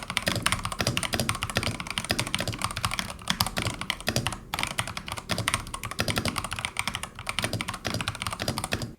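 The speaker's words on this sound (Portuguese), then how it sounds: "gostei muito do barulho de digitação desse cara" Continuous fast typing on an Epomaker ABM084 ergonomic keyboard with premium switches and acoustic dampening, a dense, close clatter of keystrokes with a brief pause midway and no voices.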